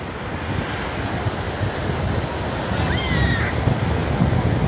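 Large ocean waves roll onto a Brazilian beach as a loud, steady roar of surf with wind buffeting the microphone, and a faint bird call rises briefly near the end.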